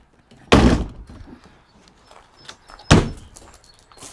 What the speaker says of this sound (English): whenever I fold this down, I kind of let it drop down a little bit hard just to ensure that it latches in place